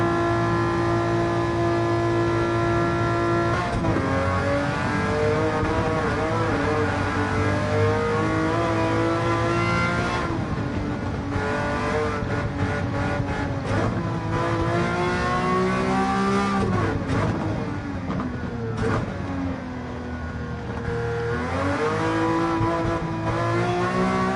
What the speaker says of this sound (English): Second gear on this car sounds just amazing.